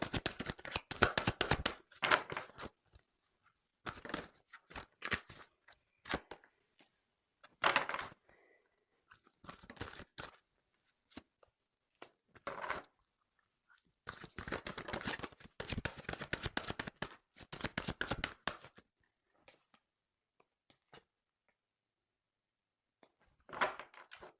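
Tarot cards are shuffled for a reading in quick, crisp riffling bursts separated by quiet gaps. The bursts are close but fairly soft, with occasional taps and handling noises.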